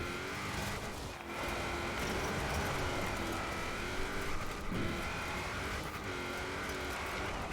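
A Ford Festiva races in a time-trial climb video game, a constant revving engine drone with shifting pitch and brief tire squeals, alone and steady.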